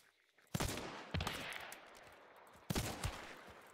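Gunfire in a first-person shooter game cracks out in a few sharp bursts, each shot echoing and decaying, with pauses between volleys.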